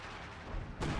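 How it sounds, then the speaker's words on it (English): Artillery fire in Company of Heroes 2, a heavy boom landing near the end after a stretch of steady rumbling battle noise, with no talk in between. "And now he's using the artillery."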